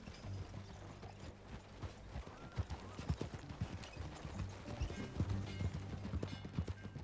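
Horse hooves clip-clopping at a walk in Red Dead Redemption 2, a steady, fairly quiet rhythmic clopping of several beats over a low ambient hum, with faint creaks of tack.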